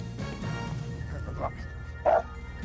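A female Rottweiler in Schutzhund protection training gives two sharp, close barks over a continuous low background of voices and noise.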